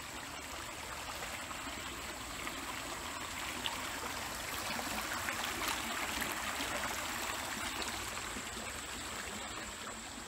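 Steady flowing creek water, a continuous broadband rush and trickle that holds even for the whole stretch, with no voices.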